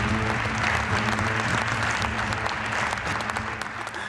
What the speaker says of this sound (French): vous applaudissez déjà